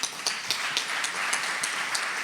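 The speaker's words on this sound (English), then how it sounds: "So, enormous applause for these two experts." Applause from a conference audience at a good-practice services event, a steady wash of many hands clapping at moderate distance with no talk over it.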